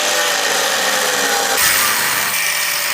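A power saw cuts through marked wood boards in a home shop, a loud steady buzzing rasp that shifts pitch partway through as the blade bites, with no talking.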